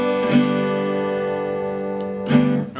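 Guitar in open D tuning, all strings strummed together for a song, a ringing chord sustained for about two seconds before a second strum near the end.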